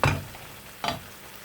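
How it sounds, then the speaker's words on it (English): King prawn masala sizzles in a pan, two loud bursts of hissing spatter, likely from stirring, each fading into a softer simmering crackle. "just going to let that sizzle away"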